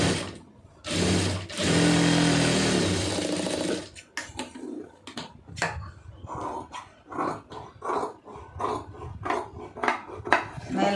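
A sewing machine stitching two pieces of fabric together runs in a loud, continuous burst close by, then continues in short stop-start bursts.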